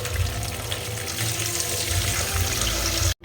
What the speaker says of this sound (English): So I use this and fill with water